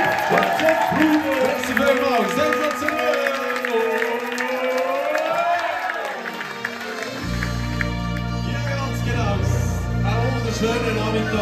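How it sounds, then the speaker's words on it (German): An audience cheers and applauds for Martin at an event in a sheep barn. The crowd noise runs throughout, blended with loud music and a voice. "Ein großer Applaus! Martin!"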